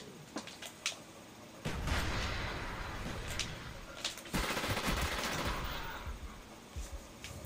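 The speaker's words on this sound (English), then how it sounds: "now he's using his AK rapid fire" Rapid bursts of AK rifle fire in a video game match, dense and loud, with sustained automatic volleys rolling almost continuously through the stretch.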